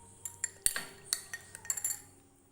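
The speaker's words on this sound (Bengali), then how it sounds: "এতে অল্প পরিমাণে একটু জল দিয়ে এটা গুলে নেব" A metal spoon stirring cornflour with a little water in a bowl, with a quick irregular run of bright clinks and taps against the bowl, close and fairly quiet.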